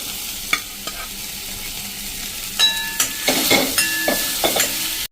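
Sizzling oil tempering with a burst as chopped onions go in, followed by several sharp scraping stirs of a spoon against the pan.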